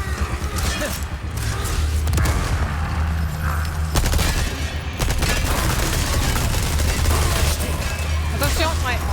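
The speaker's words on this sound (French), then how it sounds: "Grenade." Explosions and combat noise in the video game Resident Evil 4 Remake: loud, dense booms and mechanical crashes rumble continuously, with a grenade blast among them and people talking throughout.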